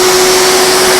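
An Electrolux Z1495 Airstream 1000 Varipower upright vacuum cleaner running at full power, a loud, steady close-up roar with a constant whine and no voices.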